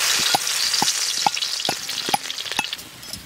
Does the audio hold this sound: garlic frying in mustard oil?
yes